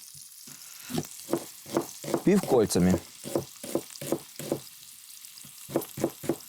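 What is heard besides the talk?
bacon frying in pan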